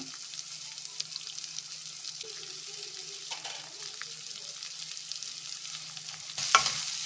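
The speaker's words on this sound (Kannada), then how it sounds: "ಈಗ ಈರುಳ್ಳಿ ಹಾಕ್ಕೊಳ್ತಾ ಇದ್ದೀನಿ ಮತ್ತು ಅದ್ರ ಜೊತೆಗೆ ಹಸಿಮೆಣ್ಸಿನ ಕೂಡ ಹಾಕ್ಕೊಳ್ತಾ ಇದ್ದೀನಿ ಸ್ವಲ್ಪ ಫ್ರೈ ಆಗಲಿ" Onion and green chili frying in a pan for cheese pasta, a quiet steady sizzle with light stirring scrapes and a louder clatter near the end.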